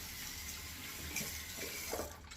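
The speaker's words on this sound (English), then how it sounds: "I could still add more water to this" Tap water running into a sink while shaving soap lather is being wetted, a soft steady stream with faint splashes, quiet and alone.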